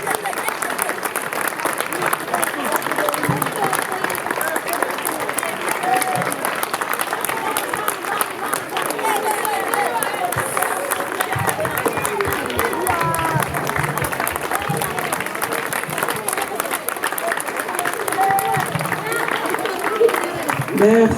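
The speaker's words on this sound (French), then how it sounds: "Une minute d'applaudissement pour l'image de" Sustained audience applause at a Dakar film festival press conference, a long even wash of clapping with a crowd murmur and voices mixed underneath.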